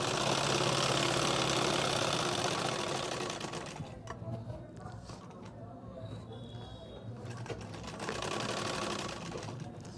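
Sewing machine stitching elastic onto a sharara garment, a steady whirring run that dips in level midway and picks up again near the end, close up with no talk.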